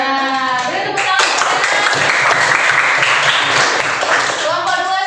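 A classroom of students breaks into loud, close applause lasting several seconds, with voices talking over the clapping at the start and end.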